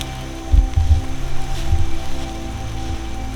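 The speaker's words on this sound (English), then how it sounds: "and it's raining." Rain falling near water, a steady wash of drops with a few louder low thumps and rumbles close to the microphone, no voices.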